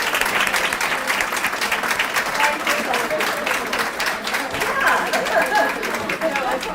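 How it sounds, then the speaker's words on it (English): An audience gives a long round of applause for early care and education providers at an advocacy day gathering, steady dense clapping filling the room from start to finish with some crowd chatter mixed in. "would you please stand up so we can give you a big round of applause"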